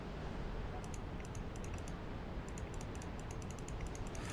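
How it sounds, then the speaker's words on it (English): Rapid clusters of sharp mouse clicks rattle away during play of the Beat Cop video game, clicking over and over on the in-game radio; the clicks come in uneven bursts over a steady background hiss, with no talking. "I'm clicking all over the fucking radio."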